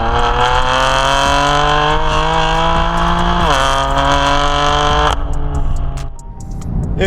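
A BMW M4 with a Bootmod3 stage 2 tune accelerating hard, a loud close engine howl climbing through the revs, a quick shift, then climbing again before the throttle snaps shut and it drops away.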